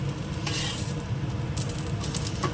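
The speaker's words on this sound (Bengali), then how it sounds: "আগে নিম পাতাগুলো এই যে একটু একটু ভাজা হয়ে আসছে" Neem leaves frying in hot oil in a home kitchen pan give a steady, close sizzle with occasional stirring scrapes, no talking over it.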